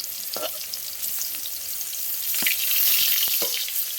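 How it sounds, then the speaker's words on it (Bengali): Pointed gourd (potol) frying in hot oil in a pan, a dense continuous sizzle close by, swelling slightly midway, with occasional sharp clicks of a utensil pressing and turning the pieces. "পটলটা ভালো করে ভেজে নেব"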